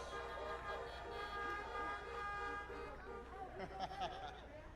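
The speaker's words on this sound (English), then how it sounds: "You got that horn honking good." Car horns toot and honk repeatedly at a drive-in political rally over a crowd and a voice, with harmonic blasts layered, then a burst of cheering noise.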